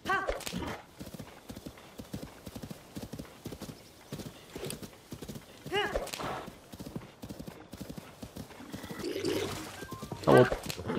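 A horse gallops in the video game The Legend of Zelda: Tears of the Kingdom, with steady rhythmic hoofbeats throughout, a whinny, and occasional game chimes. The hooves run under a person talking.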